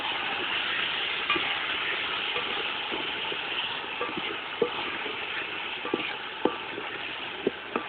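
Mixed vegetables with radish and potato are stirred and fried in a pan, giving a constant close sizzle with occasional sharp clinks of the spoon against the pan.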